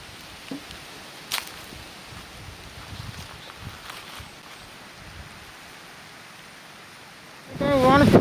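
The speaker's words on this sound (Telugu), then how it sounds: "ఇప్పుడైతే చిన్న వానే పడుతుంది" Light rain falls at night near a hut in a village, a soft steady patter with a few louder knocks, then a sudden burst of heavier noise at the end.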